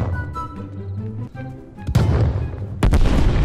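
Heavy booms from an artillery strike in Call of Duty: Cold War, with two loud explosive impacts landing about a second apart after a stretch of quieter tonal game sound.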